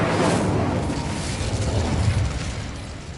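The Incendio fire spell cast in a video game: a broad, roaring whoosh of flame that swells at once and holds steady before slowly fading, loud and close, with no voice over it.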